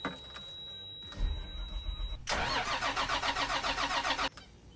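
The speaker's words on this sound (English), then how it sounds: "Fixing an engine that will crank but not start." A diesel engine in a 1998 Newmar Dutch Star motorhome cranks hard for about two seconds with a steady rhythmic starter churn, loud and close, then falls quiet without catching.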